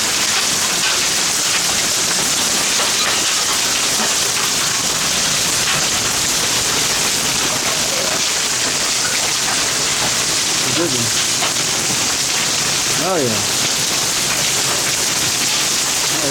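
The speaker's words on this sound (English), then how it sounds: "Big old thunderstorm." A supercell thunderstorm pours heavy rain at an apartment, a dense, loud, continuous hiss with no letup, while a person speaks briefly over it.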